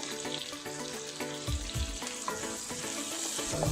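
Onions fry in a pan for a Telugu goat head curry, giving a steady close sizzle with a few soft stirring scrapes and clinks partway through and no talk.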